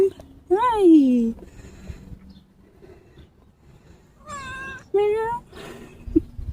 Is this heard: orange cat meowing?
yes